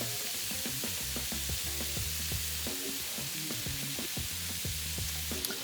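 Quinoa-and-chorizo-stuffed squid browns in a pan with a constant bright sizzle, under a repeating low rhythmic hum-like pattern from the stove or fan.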